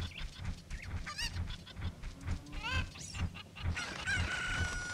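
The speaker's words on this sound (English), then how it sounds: "She does not know how to take care of her chickens." Chickens in Zelda: Ocarina of Time on the Nintendo 64 cluck and squawk in a busy, overlapping flock with a repeating rhythmic game thump underneath, close and fairly loud.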